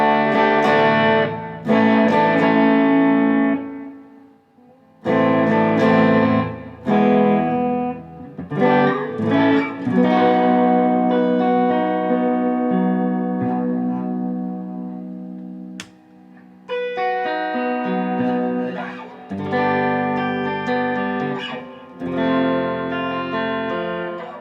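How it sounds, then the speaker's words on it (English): Electric guitar fitted with an IYV ISSY-200 pickup, played with reverb and delay on, ringing chords and phrases in several bursts with short gaps, loud and close with lingering echo tails. "let's try it with the reverb and the delay back on"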